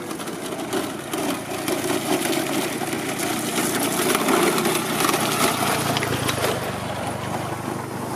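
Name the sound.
motorcycle engine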